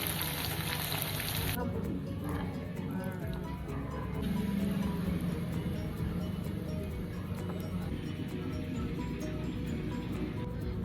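Coimbatore-style chilli chicken frying and being stirred in a pan, a continuous dense sizzle that carries throughout at moderate level, with no clear voice over it.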